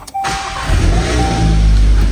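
A Volkswagen GTI engine cranks and catches after a brief click, then settles into a loud, steady idle rumble close by, alone without talk.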